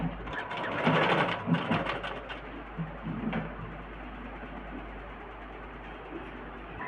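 Sewing machine stitching a half-inch seam on fabric, a steady close mechanical whir running throughout with a brief louder burst near the start.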